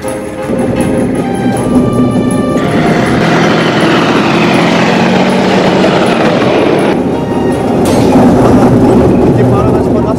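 A Czech T-72M4CZ tank releases its brakes and drives off, a loud, continuous heavy engine roar with clattering track rumble, close to the microphone and steady for about ten seconds.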